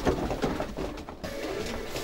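Widowhood homing pigeon cocks coo inside a racing loft, soft throaty calls close by in a brief burst with a short lull before the murmuring resumes.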